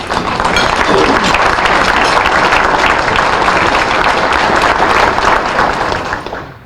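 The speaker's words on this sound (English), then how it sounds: "I do ask you to applaud for them this evening" An evening audience applauds the co-chairs, a dense, loud wash of clapping that holds steady for about six seconds before tapering off at the end.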